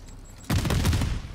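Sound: gunshots in a Call of Duty Zombies video game

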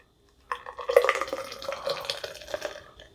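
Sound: pouring soda into a cup

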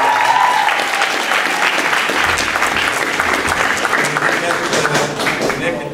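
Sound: audience applause at school talent show

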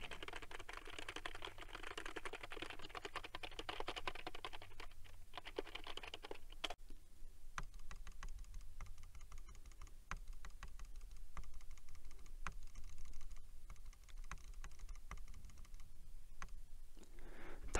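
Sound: computer keyboard and mouse buttons being pressed

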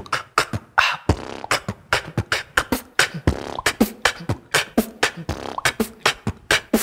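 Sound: beatbox vocal imitation

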